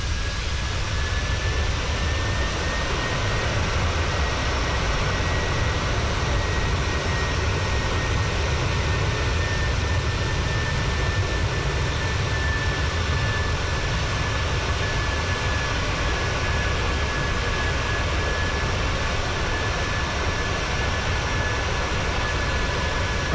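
A jet airliner's engines in Microsoft Flight Simulator 2020, heard from outside the aircraft while climbing at around 14,000 feet on a Portland to Seattle flight: a loud, steady roar with a thin high whine, constant throughout with no talk.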